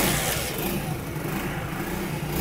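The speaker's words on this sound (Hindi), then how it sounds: "अब इस बाइक को हम स्टार्ट करके चेक कर लेते हैं।" A motorcycle engine with a faulty silencer runs loudly and roughly up close, a constant throaty rumble with a raspy exhaust note and no voices.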